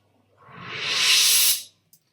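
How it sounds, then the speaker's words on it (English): A rising hiss-like EDM riser sweep made in GarageBand swells over about a second, peaks, then cuts off sharply, followed by a tiny click. "And then the final thing is a riser"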